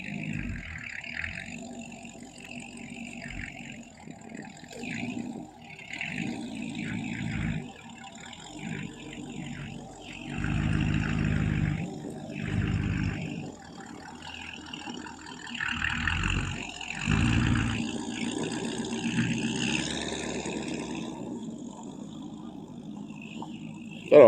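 Engine of a rusty 1972 Chevy K10 pickup truck idling after a cold start, a low steady rumble with some uneven surges, heard from nearby for the whole stretch.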